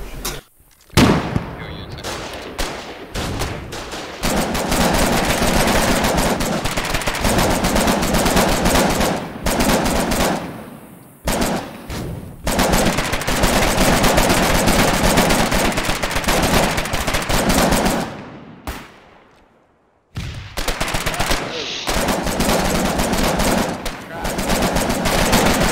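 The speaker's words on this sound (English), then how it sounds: "So that rifle bunker that we're firing at right now." Gunfire at a rifle bunker in the war game Foxhole during a fight on Vexis island: loud, sustained automatic fire in long bursts with brief pauses, dense and close, with players talking over it.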